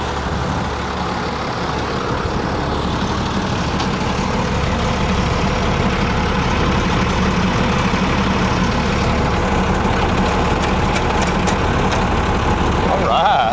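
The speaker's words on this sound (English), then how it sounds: "It purrs like a kitten, really. I don't know what kind of engine it is, but she's smooth." The diesel engine of a Lorain crane idles smoothly, a loud, close, unbroken rumble that holds steady throughout with no revving.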